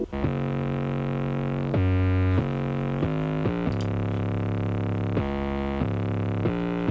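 An 808 bass line with most of its low end filtered out plays sustained, buzzy, harmonically rich notes that shift between a few pitches, loud and steady with no other sounds.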